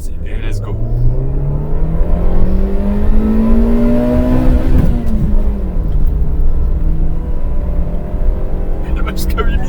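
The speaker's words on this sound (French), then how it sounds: "mais qu'est-ce qu'elle monte dans les tours" A small car's engine revs hard as it pulls away uphill, the rising pitch climbing steadily before easing off after a gear change; loud and continuous.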